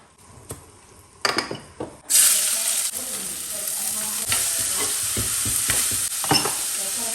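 Beans thoran cooks in a pan, with a few clinks of a utensil stirring before a loud sizzle starts and holds steady. Scraping and stirring knocks recur over the close frying hiss.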